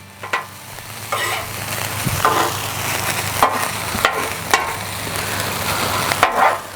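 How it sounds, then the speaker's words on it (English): Fried rice sizzles on a Blackstone griddle during a backyard hibachi cook. A steady frying hiss is broken by several sharp scraping spatula flips and clacks, close and loud, with no speech. "We're gonna flip our rice now."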